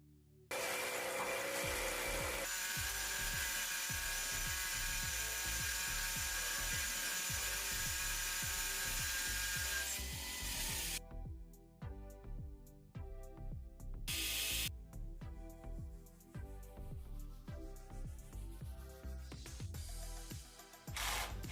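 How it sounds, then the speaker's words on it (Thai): A cordless drill whines steadily, then grinds and rattles in rapid, uneven bursts as its gears slip and it fails to bore through, with sharp clicking under the motor noise. "ฟินริสเจาะไม่เข้าเสียงเหมือนเฟืองรูด"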